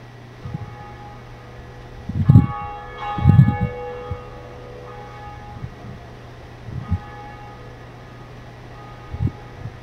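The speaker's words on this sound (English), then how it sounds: "watch this awesome cutscene of a bell ringing" A deep bell tolls in a Dark Souls cutscene, several heavy strikes spaced a second apart with lingering metallic overtones, heard over a constant low drone and airy hiss.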